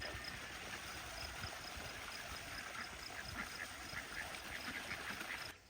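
Small ducklings peep and quack faintly in a steady, repeated chatter over a soft background hiss, kept at a distance and low in level throughout.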